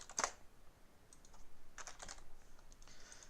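Quiet, close typing of code on a computer keyboard, a crisp initial key clack followed by a soft, irregular patter of keystrokes, with no talking.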